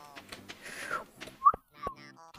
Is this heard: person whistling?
yes